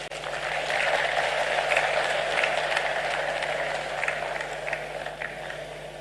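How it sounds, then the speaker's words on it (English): An audience at a memorial lecture commemorating a late Ghanaian president applauds steadily after a speech, a dense, even wash of clapping lasting about six seconds with a faint hum underneath, moderately distant and without talk. "Let's give another round of applause to him"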